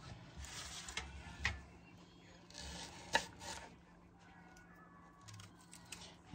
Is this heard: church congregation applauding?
no